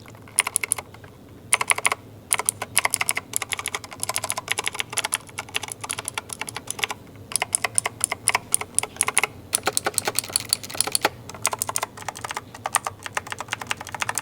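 Rapid clicky keystrokes on a Razer BlackWidow V3 Tenkeyless mechanical keyboard, in bursts with short pauses, close and crisp with no talking.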